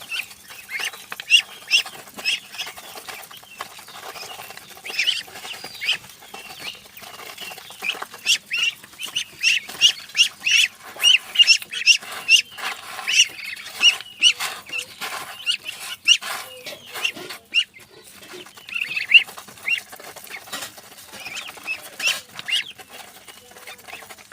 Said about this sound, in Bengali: চীনা হাঁসের বাচ্চা